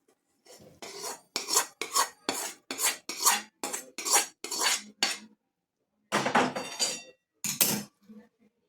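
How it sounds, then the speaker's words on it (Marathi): A spoon mixes a hot ghee and cardamom sweet in a pan just taken off the gas, giving a steady run of about a dozen close scraping strokes, then a pause and a few more strokes. "गरम गरम आहे आपण आता चमच्याने मिक्स करून घेऊ"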